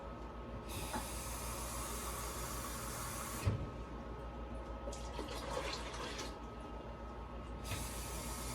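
Water is poured into a home ice maker to refill it, a soft steady hiss and splash of running water with a faint clunk partway through, heard alone at low volume.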